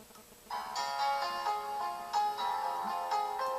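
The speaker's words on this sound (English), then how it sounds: "what you're hearing here is the A2DP function, which is streaming a MP3 from my phone" MP3 music streamed over Bluetooth from a phone to a W124 Mercedes rear-view mirror: a steady melodic synth line plays at moderate level through its small speaker, starting after a brief quiet moment, no voices.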